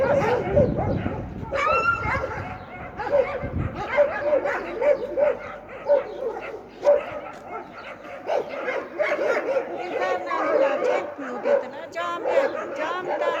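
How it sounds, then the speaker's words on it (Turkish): Several Kangal dogs bark, yelp and snarl in a chaotic fight, with whimpers mixed in and people shouting nearby throughout. "Kangal kavgası."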